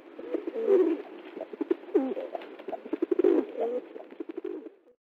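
Pigeons cooing low and throaty, a steady run of soft rolling coos with fluttery pulses, close by and continuing for several seconds.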